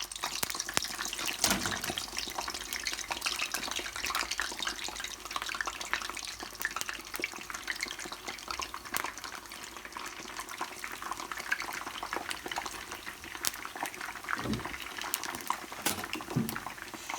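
Eggplants frying in oil in a pan for karnıyarık, a steady dense sizzle and crackle with frequent sharp pops, close and even throughout.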